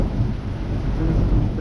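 Thunder rumbles low and steady through a moderate storm over the Chartreuse in Liège, a continuous deep roll with rain underneath, close and loud, with no voices.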